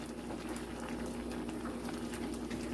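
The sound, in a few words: pot of lentil dalpuri filling boiling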